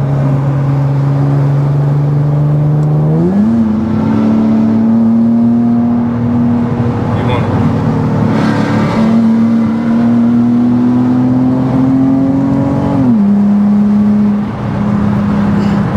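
A tuned 400hp Infiniti G37 engine pulls hard under acceleration, its loud droning note climbing steadily in pitch, with sudden gear-change jumps near the start and toward the end, heard close up from inside the car.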